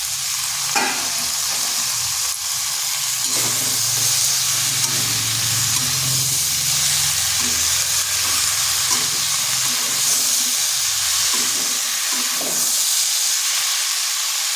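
Chopped Malabar spinach going into a pan of fish cooking with ground coriander, giving a loud, continuous hiss and sizzle of steam with occasional stirring knocks, no talking.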